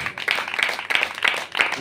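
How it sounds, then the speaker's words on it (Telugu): A church congregation claps loudly during a sermon, a dense, steady patter of many hands with slightly swelling rhythmic surges throughout. "గట్టిగా చప్పట్లు."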